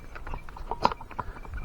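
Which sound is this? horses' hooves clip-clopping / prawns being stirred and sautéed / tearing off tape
horses' hooves clip-clopping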